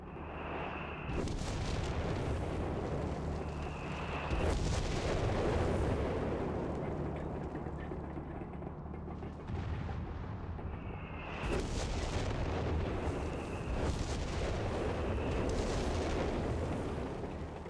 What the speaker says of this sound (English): Yeah, that was a pretty shit barrage then.